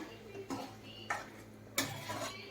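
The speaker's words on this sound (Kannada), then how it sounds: "ಈಗ ಬೆಂಡೆಕಾಯಿಯನ್ನು ಈ ಮಸಾಲೆ ಕೂಡ ಹಾಕ್ತಿದ್ದೆ ನೋಡಿ" Okra tossed into masala in a pan for bhindi curry, heard as three faint, short bursts of scraping and clattering about half a second apart, with a quiet hiss between them.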